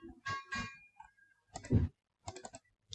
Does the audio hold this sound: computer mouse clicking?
yes